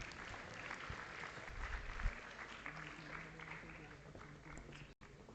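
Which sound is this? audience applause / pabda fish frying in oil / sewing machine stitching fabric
audience applause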